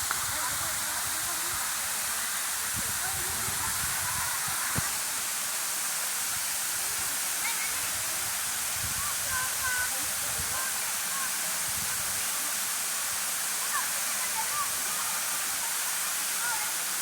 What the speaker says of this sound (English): this is the Kawasan Waterfall